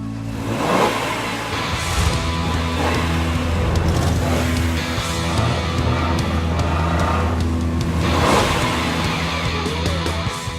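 A car drives up a bumpy driveway toward a house, its engine droning and surging with uneven rises over a steady rumble, and no voices are heard.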